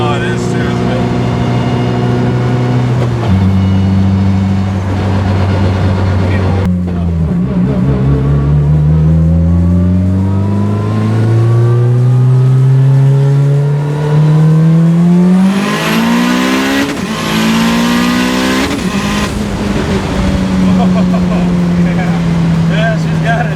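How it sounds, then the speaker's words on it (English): Mitsubishi Lancer Evolution 9 with PPG gears and a 2.3 stroker engine, its gearbox whining loudly in steady rising and falling tones as it accelerates through the gears, with voices talking over it inside the car. "You hear the gearbox, all you hear is whine."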